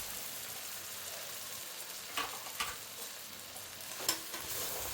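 Soaked country chicken for natukodi pulao fries in a pan, giving a steady soft sizzle with a few brief stirring scrapes near the middle and end.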